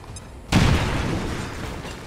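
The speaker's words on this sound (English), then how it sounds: "Throw your frag first so you weaken his armor." A frag grenade explodes in XCOM 2: silence, then a sudden loud, close boom at about half a second, its deep rumble decaying slowly through the rest of the clip.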